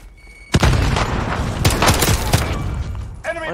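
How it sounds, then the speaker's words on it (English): Precision airstrike explosions hit in Call of Duty Modern Warfare, a sudden loud blast followed by a rapid cluster of booming, crackling impacts over a couple of seconds, then a brief electronic chirp at the end. "Enemy what precision airstrike. Take cover."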